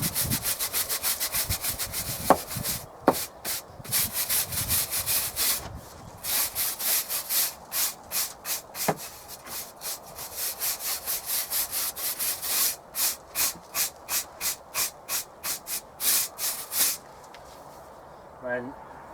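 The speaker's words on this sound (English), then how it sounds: "using a stiff brush" A stiff brush scrubs over a damp, mouldy brick wall in rapid back-and-forth strokes, rasping loudly and close up in a steady rhythm with a few short pauses.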